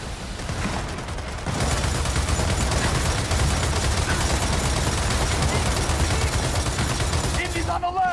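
Heavy, continuous automatic gunfire in Gears of War 4, loud and close, a rapid rattling stream that runs for most of the stretch after a quieter start, with voices talking over it.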